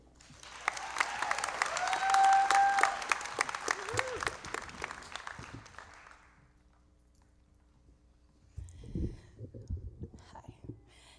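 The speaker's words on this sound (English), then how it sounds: "Please give a round of applause to Jenny Lee." Graduation audience for an adult basic education high school equivalency ceremony applauding in a large room, sustained clapping that builds and then fades out after about six seconds, followed by a few quieter sounds.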